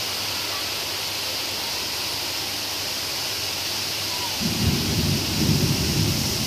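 Low rumbling thunder rolls in near the end of a steady heavy rainstorm, heard from a balcony, rising over the constant hiss of pouring rain.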